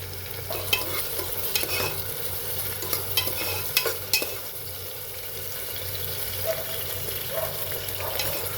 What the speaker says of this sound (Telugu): ఇప్పుడు గోల్డెన్ బ్రౌన్ వచ్చే వరకు వేయించుకుందాం లైట్గా.